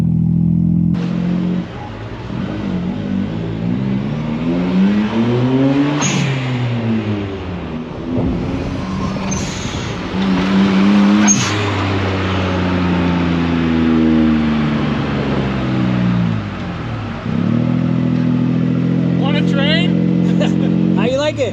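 Suzuki Cappuccino engine with a check engine light fault revving up repeatedly in loud swells, then the revs dropping back toward idle, with people talking over it throughout.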